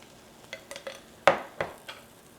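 Beaten eggs cooking in an oiled pan for a Korean rolled omelette, a soft low sizzle broken by several sharp utensil clicks and scrapes against the pan, one louder knock in the middle.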